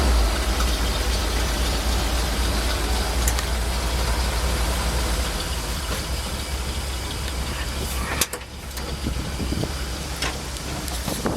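The engine of an M43 military ambulance idles steadily outdoors, close and loud, a continuous low rumble with a brief dip and clatter near the end.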